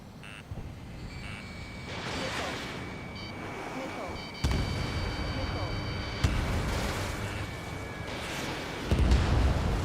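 In Ace Combat 7, enemy bombers are shot down, with a few heavy booms breaking through a constant roar of jet engines and combat noise, each blast followed by a rumbling tail; radio voices talk throughout.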